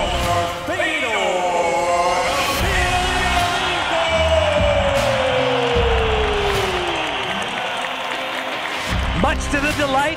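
Arena crowd in Moscow cheering and roaring after Fedor Emelianenko's MMA win over Jeff Monson, a loud sustained wash of voices with whoops, while an announcer talks over it.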